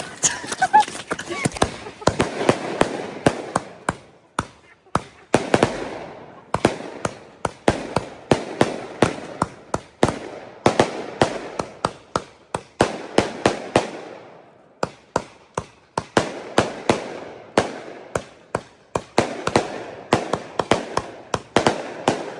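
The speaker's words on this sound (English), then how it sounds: "Ellie did not like the fireworks." Fireworks bang repeatedly on a rainy night while camping on Vancouver Island, a long irregular string of sharp pops and cracks, some close and loud, others fainter, with people talking between bursts.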